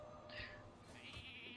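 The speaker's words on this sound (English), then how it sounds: "Polymorph sheep." A game sheep bleats twice from the Polymorph spell in Hearthstone, short and faint over a low background hum.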